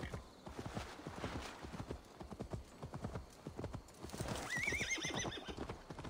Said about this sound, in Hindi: तो घोड़ा भी धीरे भागेगा since I am in city